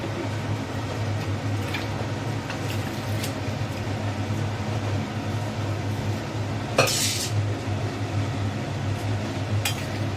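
Chana dal with asafoetida is stirred in a pot, a spoon scraping and clinking against the metal over a steady low bubbling hum, with a couple of sharper clanks close by.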